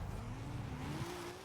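Nissan GT-R "Godzilla" drift build in Forza Horizon 5, a steady, loud engine drone whose pitch climbs gradually as the car accelerates, with tire noise and no talking.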